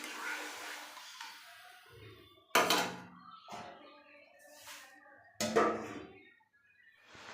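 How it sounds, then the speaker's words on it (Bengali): A lid is set over a cooking pot in a home kitchen, giving a couple of sharp metallic clanks amid quieter rattling and handling noises, fairly close and otherwise calm. "এবার ঢাকা দিয়ে দিই।"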